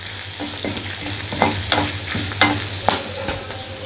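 Ingredients dry-roasting in a pan for a South Indian rasam give a steady sizzling hiss, with a spoon scraping and stirring through them in repeated strokes, close and continuous.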